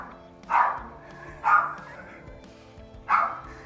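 Three loud barks from a dog nearby, spaced about a second or more apart, with quiet room noise between them.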